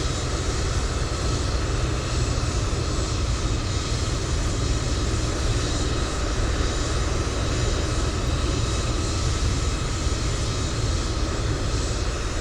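A continuous, loud roar of jet airliner engines in a flight simulator game, droning steadily throughout, broad and rumbling with no breaks or voices.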